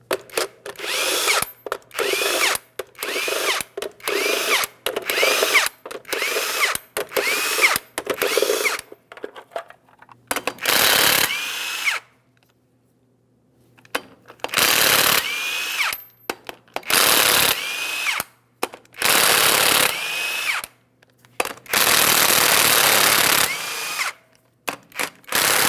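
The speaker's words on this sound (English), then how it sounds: "we'll remove all 8 of our 22mm lug nuts as well" A power tool spins off the 22mm lug nuts from the wheel of a 2007-2014 GMC Sierra 2500 HD. It whirs loudly and close in repeated short bursts, then in several longer runs, with no talk.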